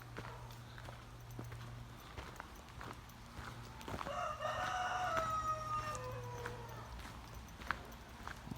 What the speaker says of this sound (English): Some big rooster going on there.